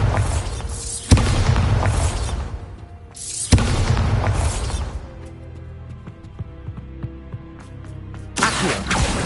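Bombarda spell blasts in the video game Hogwarts Legacy, three loud booming explosions with crashing debris spaced a few seconds apart, fading into quieter rumbling between them.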